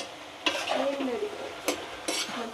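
Radish and tomato fry with chili powder stirred in a pan, a close sizzle with a few distinct scraping strokes of the spoon across the pan surface.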